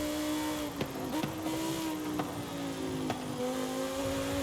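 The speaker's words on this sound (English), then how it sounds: "This is probably one of the most accurate sounding V10s in this game." A Lamborghini Huracan Tecnica V10 in Forza Horizon 5 holds a steady, loud, close drone at high revs, with a few brief clicks and a gear change near the end.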